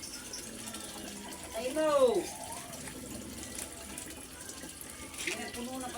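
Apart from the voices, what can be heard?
water running from a tap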